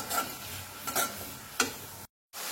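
Ground coriander, cumin, ginger and garlic paste fries in a pan with a soft sizzle and a few brisk stirring scrapes, close and fairly quiet, cutting off briefly near the end.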